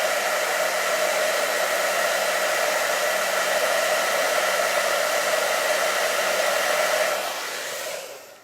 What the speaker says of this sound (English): Nice thing is I can use that hair dryer